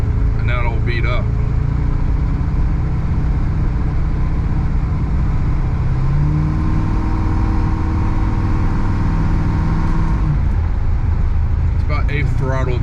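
A 1977 Pontiac Trans Am, a white 43,000-mile car, runs at light eighth throttle while warming up, its steady low engine drone filling the cabin with a brief rise in pitch midway and voices talking over it.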